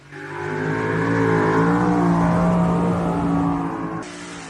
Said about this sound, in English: When you come to the tractor pulls at the Illinois State Fair, you will witness trucks and tractors of all kinds.